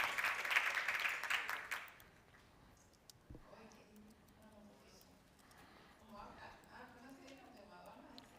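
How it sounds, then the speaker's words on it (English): Applause from an audience at a conference session, a dense burst of clapping for about two seconds that quickly dies away, followed by quiet, distant talking. "A round of applause for Mark."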